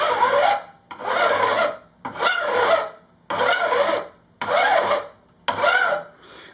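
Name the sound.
file dressing guitar frets during a refret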